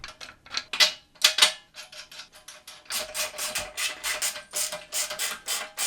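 Close metallic clicks and rattles come from a ratchet or wrench as the handlebar is bolted onto a VEVOR 500 lb heavy-duty hand truck dolly, with irregular bursts that then settle into steady rhythmic clicking.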